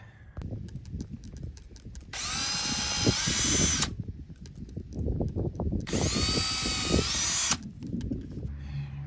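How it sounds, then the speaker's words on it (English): A power drill bores holes in a wall to mount a low-voltage patio lighting transformer box, with two loud, sustained whining bursts of a few seconds each, separated by quieter handling noise. "I'm going to drill where the pluses are so I'll know how to attach this"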